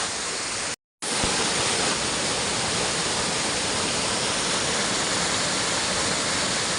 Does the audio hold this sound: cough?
no